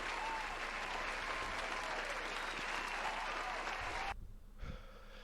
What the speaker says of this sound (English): I think you should get a round of applause